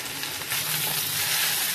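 Chopped onions go into a pan of frying potatoes for an egg and potato bhurji, raising a steady close sizzle that swells a little after the first half second and holds without talk.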